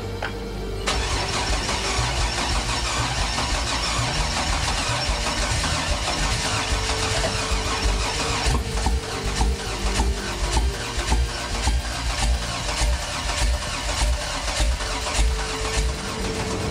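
A swapped supercharged 3800 V6 in a 1985 Pontiac Fiero GT cranks and catches, then settles into a steady, loud idle that runs on with a slight rhythmic pulse.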